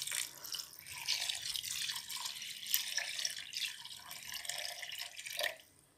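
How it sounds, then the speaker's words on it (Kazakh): Water is poured steadily into a pot over washed rice and meat for Kazakh palau, a continuous close splashing pour that stops abruptly near the end. "Осылай су құя берсеңіздер ештеңе етпейді."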